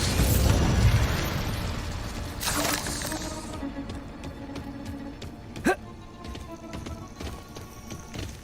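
A Bombarda blasting spell detonates in the Hogwarts Legacy video game, a sharp burst standing out midway amid a dense, continuous wash of combat noise with rattling, clattering impacts.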